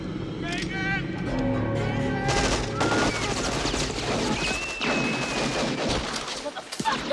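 Gunfire from a shooting scene in the film New Jack City: rapid bursts of automatic shots and booms layered with music and shouting voices, dense and loud throughout.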